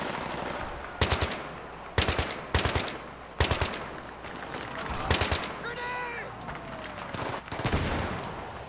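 Heavy-recoil weapon firing in Battlefield 3, a series of loud, sharp individual shots spaced about a second apart, each with a booming echo tail, with quieter game background sounds between.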